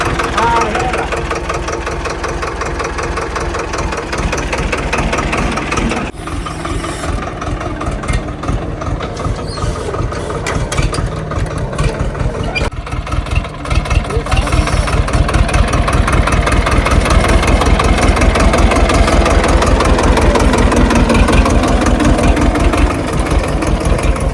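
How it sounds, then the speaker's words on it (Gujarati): A large tractor engine idles steadily on a farm, a continuous low rumble that thickens and grows louder partway through, with people talking over it. "આવડું મોટું ટ્રેક્ટર અને મસ્ત ટ્રેક્ટર છે હવે"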